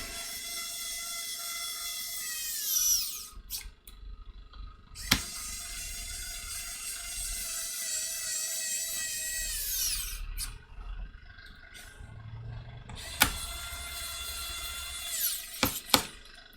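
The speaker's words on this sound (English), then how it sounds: "this electric screwdriver is just worth its weight, because it's just so effortless to zap all these screws back in now" An electric screwdriver driving screws back into an Aspire PC case: long, high, whining motor runs that slow as each screw seats, separated by short pauses and sharp clicks, close and loud.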